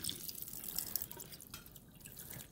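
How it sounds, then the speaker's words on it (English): Water from a lab tap rinsing a microscope slide stained with safranin counterstain during an endospore stain, a faint continuous trickle and splash, close by and alone. "Now that the counter stain has had a chance to work, we just need to rinse these guys off."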